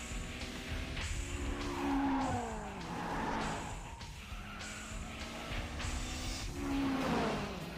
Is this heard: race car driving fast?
yes